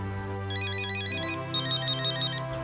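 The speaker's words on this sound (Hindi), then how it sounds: "समीर का फोन है।" A phone ringtone plays a bright repeating electronic melody in two short phrases over a low steady background tone.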